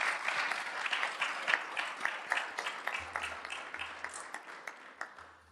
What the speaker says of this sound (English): they can't escape a round of applause, so we're going to give them a round